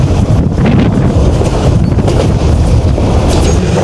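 The Agnibina Express on the Dhaka–Tarakandi route runs at speed, with a steady, loud rumble of wheels and carriages and heavy wind buffeting the microphone throughout.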